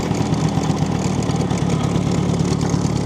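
A 1968 Vespa 150 Sprint, an Italian classic scooter, runs with a steady, buzzy two-stroke engine drone, loud and close, holding an even pitch throughout with no voices.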